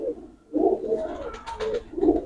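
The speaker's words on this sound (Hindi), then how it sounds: "ये कौन सा कबूतर है?" A Cheena pigeon coos close by in soft, low, throaty phrases, a short pause and then several rolling coos, with no talking over it.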